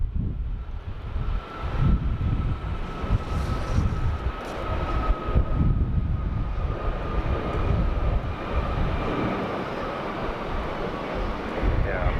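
A Royal Australian Air Force Boeing business jet takes off from Sydney Airport, its engines a loud, sustained roar with a steady whine, heavily buffeted by wind noise on the microphone.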